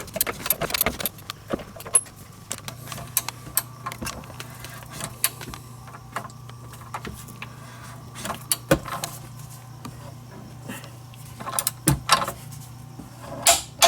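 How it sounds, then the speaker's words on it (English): A torque wrench tightens a DeLorean lower control arm pivot bolt, producing scattered sharp metallic clicks and ratcheting ticks close by over a faint low hum, with no talking. "It's important to torque down the pivot bolt to factory specifications, so make sure you're using a good torque wrench."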